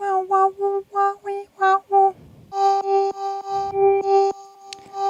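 A bright synth arpeggio of repeating plucked notes, each hit at a slightly different loudness, playing alone in a steady pulsing pattern.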